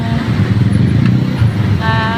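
Heavy street traffic at Cogeo Gate 1 on a Saturday, with many motorcycles and tricycles jostling: a steady, dense roar of engines that fills the whole stretch, and a horn-like tonal note rising near the end.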